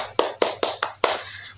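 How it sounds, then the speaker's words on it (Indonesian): Children clapping their hands at a youth church service: five sharp, evenly spaced claps, close and fairly loud, over a low steady hum, with no talking. "Tepuk tangan dulu untuk kita semua."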